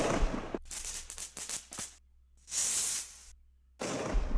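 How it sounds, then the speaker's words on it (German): Minecraft firework rockets from a custom resource pack, several sharp crackling bursts followed by a long sparkling hiss, then a further burst, loud and close with silent gaps between. "Das war eine große Explosion mit Funkeln."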